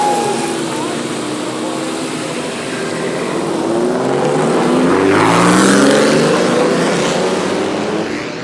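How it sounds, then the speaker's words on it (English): Race car engines rev and roar together at the start of a race at Pebble Beach, swelling from a steady din into a louder surge with rising whines, with crowd noise and talk underneath. "Gentlemen, start your engines."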